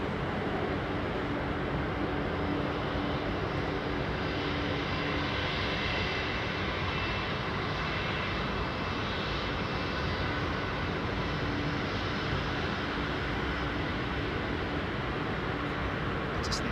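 An Airbus A380 airliner taxis at an airport. Its engines give a steady, loud, broadband roar that stays constant throughout.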